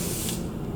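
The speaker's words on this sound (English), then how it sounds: "And now we spray it down." A short burst of water spray misting onto carrot seed potting mix, a soft close hiss lasting under a second with no voices.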